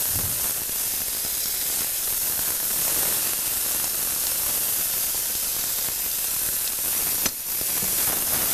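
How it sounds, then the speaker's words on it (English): Garlic thrown into a hot pan for orecchiette pasta sizzles in a steady, dense hiss that holds without a break, with one brief disturbance near the end. "I'm going to throw some garlic in there"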